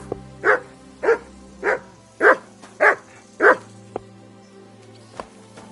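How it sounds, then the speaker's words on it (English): A dog barks six times in a steady rhythm, loud and close, followed by a few faint clicks and then quiet, with no talking. "Good dog, Mutt."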